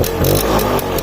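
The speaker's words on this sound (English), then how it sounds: "Now let's listen to the exhaust note of this scooter." Vijay Super Mark 2 GP 150 scooter running nearby, a steady, loud exhaust note with a continuous low engine drone and faint periodic pulsing, heard alone without voices.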